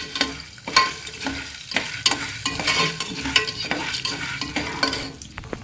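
Popcorn kernels heating in oil in a covered pan on a home stove, giving a steady busy sizzle with frequent small crackles and pops throughout, close and moderately loud, with no talking.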